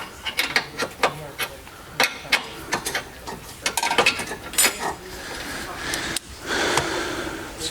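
Ratchet wrench tightening rear suspension bolts on an S550 Mustang during a Steeda and AST suspension overhaul, a close series of sharp metallic clicks and clanks in irregular bursts, with brief breathy sounds between them.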